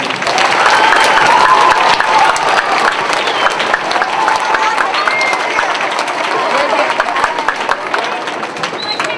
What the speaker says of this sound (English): please join me in applauding Mr. Rainey for caring enough to organize this excellent program